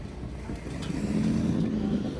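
A classic car engine idles steadily at an outdoor G-Body car show, a continuous low rumble close to the microphone with some wind noise and no talking.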